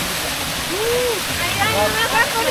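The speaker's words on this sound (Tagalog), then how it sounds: "Natural falls ba to? Or man-made? Galing sa ilog yan." Waterfall on a river at a family swimming spot, a steady broadband rush of falling water throughout, with voices and a rising vocal sound over the roar.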